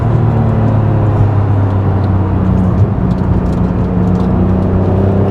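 A Honda NSX sports car engine hums loud and steady from inside the cabin while driving, a constant low drone with a smooth, even tone and no breaks.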